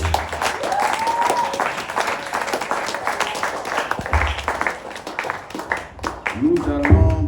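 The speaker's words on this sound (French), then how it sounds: "Acclame pour toi-même encore." A congregation at a French-language church service applauds steadily and loudly for about seven seconds, dense clapping filling the room, with voices calling out and cheering over it and a brief dip midway before swelling again.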